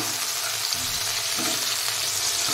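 Ginger paste and broccoli masala stirred as it fries, giving a dense, even sizzle with faint stirring rustles, steady and close, with nobody speaking.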